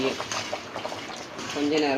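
Sweet jaggery gravy thickened with flour bubbles and simmers in a pot, a soft steady burbling heard up close, with a voice faintly present.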